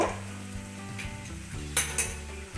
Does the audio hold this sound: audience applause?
no